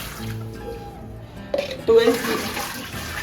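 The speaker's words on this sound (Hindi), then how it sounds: "गाइस अभी हम पानी इससे भर रहे हैं क्योंकि अभी हमारे नल में पानी आ नहीं रहा है इसमें।" Water from a container pours into a fish bowl in a short, close splashing burst that starts partway through, over a low background and a brief spoken word.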